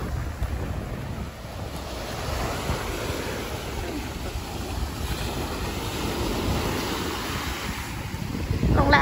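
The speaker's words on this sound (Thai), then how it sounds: "ชมคลื่นทะเล" Sea waves wash onto the beach at Pattaya, Thailand, a continuous surf rumble mixed with heavy wind buffeting the microphone and growing louder toward the end.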